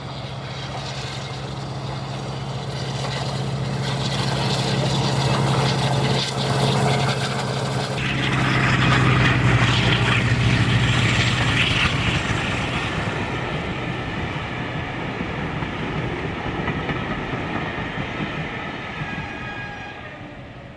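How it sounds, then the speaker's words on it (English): D1062 Western Courier, a Crewe-built diesel locomotive, rounding a curve toward a tunnel on a heritage railway, its Maybach V12 engines roaring loud and steady, swelling as it nears and then easing slightly, with rail rumble beneath. "rounding Safari Curve, we hear Western Courier's Maybach V12s to glorious effect"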